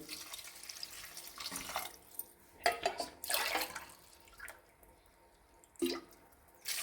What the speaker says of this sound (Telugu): వాటర్ పోస్తున్నానండి.